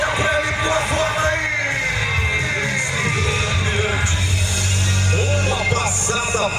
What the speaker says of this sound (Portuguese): O povo grita pra ele